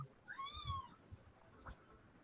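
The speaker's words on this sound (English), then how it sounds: "Good kitty." A cat gives a single drawn-out meow that rises and falls in pitch. It sounds moderately faint and a little distant over low background hum and a few soft knocks.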